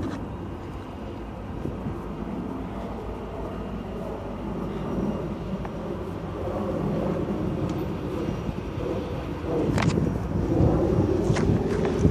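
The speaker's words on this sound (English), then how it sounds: "I'm gonna actually be quiet so I can actually see the train coming." A Union Pacific Dash 9-40CW diesel freight train approaches from far off. Its low rumble builds steadily and grows louder toward the end, with no talk over it.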